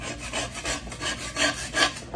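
Scrubbing rust off cast iron cookware makes a soft, rhythmic rasping, with repeated back-and-forth strokes, each a short gritty swish, close and moderately quiet.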